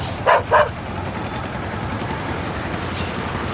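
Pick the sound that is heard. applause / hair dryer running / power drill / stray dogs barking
stray dogs barking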